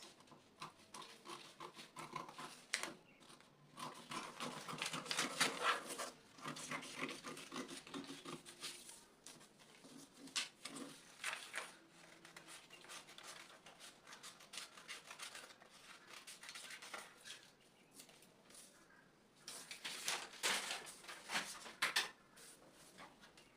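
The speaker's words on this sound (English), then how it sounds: "I'm just going to cut the yoke out. I'll cut the front first." Scissors cut yoke pieces out of fabric, making faint, close snipping and rustling in irregular bursts with short pauses between the cuts.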